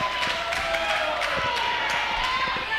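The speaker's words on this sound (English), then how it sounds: "As we hear the crowd rallying behind the Vandal." An indoor wrestling crowd at an Anarchy Wrestling tag-team match keeps up a steady roar of cheering and scattered claps behind a struggling wrestler, with commentary running over it.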